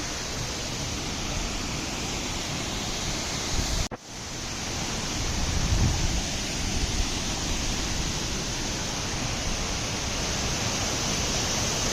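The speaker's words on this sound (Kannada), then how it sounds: "ಇಲ್ಲಿ ನೀರು ಸೌಂಡ್ ಕೇಳಾಗತೈತಿ. ಇದ ಇರ್ಬೋದು ಅನ್ಸುತ್ತೆ ನನಗೆ ಫಾಲ್ಸ." A steady, broad rush of a distant waterfall in the Western Ghats near Belagavi, Karnataka fills the scene, constant and even, with a brief dropout partway through before the roar resumes.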